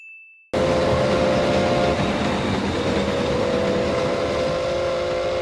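After a brief electronic tone, a loud, continuous roar of a train passing close by fills the space with steady rumbling and rattling.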